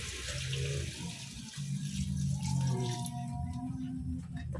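Water pours into a pan of sautéing beans and vegetables, a close, steady gush with a bubbling hiss that shifts in pitch as it fills, then trails off near the end.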